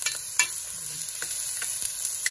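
Garlic sizzling as it browns lightly in oil in a pan before pork is added for pork adobo, a close steady crackling fry with occasional sharp taps and scrapes of a utensil.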